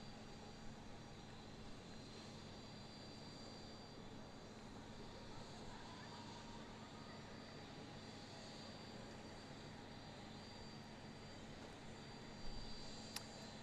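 Aircraft at Christchurch Airport at sunset, heard as a faint, steady, distant engine drone that continues evenly throughout, with a brief click near the end.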